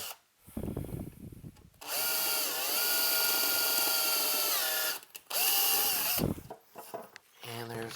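A power drill bores 1/8 inch mounting holes through a metal chassis for an all-tube phono preamp, the steady whining drone running for several seconds, pausing, then starting again briefly, close and loud.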